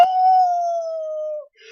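A person's voice imitates a dog, giving one long, steady, close howl that holds its pitch for over a second before fading out, with a faint rustle right after.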